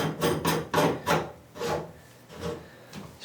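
Delta 1300/1400 series shower faucet cap being fitted back on by hand, a run of rough scraping and rubbing strokes, close and moderately loud, in uneven bursts with no talk.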